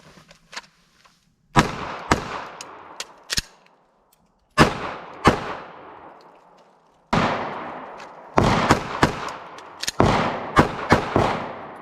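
Pistol gunfire after a malfunction is cleared: a dozen or more sharp, loud reports in quick clusters of two to four shots, each ringing out with a short echoing tail, separated by brief pauses, with no talking.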